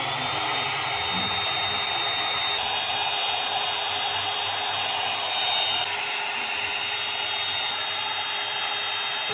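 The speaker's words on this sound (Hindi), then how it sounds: "आपको आवाज़ आ रही होगी हवा की, इतनी तेज़ आवाज़ आती है और ये गर्म हवा निकल रही है इसमें से" A one-step hot air brush blows hot air with a loud, steady whooshing whine, close up and unbroken throughout, with no talking over it.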